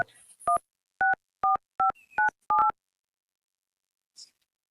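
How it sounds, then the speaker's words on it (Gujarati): Telephone keypad dialing tones in a Gujarati comedy skit: six or seven short, evenly spaced beeps, clear and fairly loud, followed by near silence and a faint click. "હવે મારે મારાથી મોટા સાહેબ ને ફોન કરવો જોઈએ."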